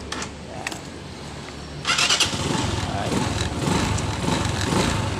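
A motorcycle engine cranks and catches after its starter relay is jumped with a wire, a sharp click and whirring crank giving way to a steady, loud idle close by.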